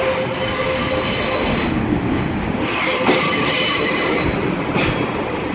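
Class 142 Pacer unit 142018 arrives at Carlisle station, a loud rolling train with wheel squeal and rail clatter filling the whole stretch, heard close by without talk.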